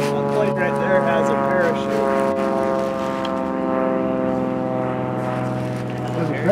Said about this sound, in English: Hey, a real airplane!